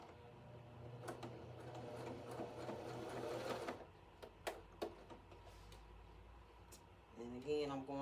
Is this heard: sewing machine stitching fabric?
yes